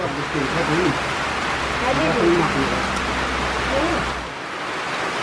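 Steady, dense hiss of heavy rain in the Philippines fills the whole clip, loud and continuous, with faint low voices murmuring underneath.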